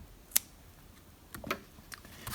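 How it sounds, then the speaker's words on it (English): Scissors snip through knitting yarn, with one crisp close cut followed by a few softer, quieter clicks and handling sounds in a quiet room. "you're going to cut your string"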